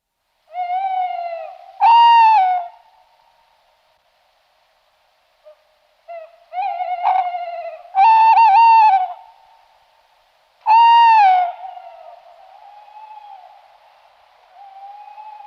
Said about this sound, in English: We've got two pairs of tawny owls at Garston, one at the northeast corner of the wood and one in the southwest corner.